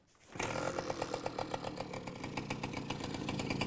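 A motorcycle engine fires up after a brief quiet start and settles into a loud, steady idle with a rapid, rhythmic pulsing beat, close by and with no talking over it.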